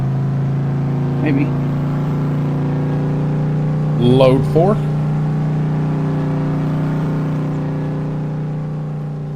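A truck engine runs loud and close during farm field work with hay bales, holding a steady low drone throughout while someone speaks briefly over it.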